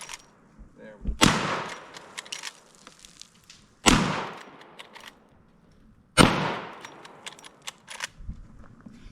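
Three sharp rifle shots ring out a few seconds apart outdoors, each a loud crack followed by a decaying echo, with quieter clicks and handling noise between them.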